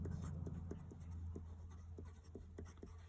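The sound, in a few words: pen drawing a diameter line on a circle diagram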